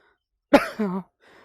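A single harsh cough, close and sudden, followed by a short raspy tail and a faint breathy sound.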